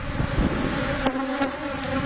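Honeybees buzz around hives during a hive inspection, a dense steady drone of many wings close to the microphone, mixed with light wind noise and a couple of brief knocks.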